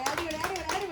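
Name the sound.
people clapping to cheer on a children's race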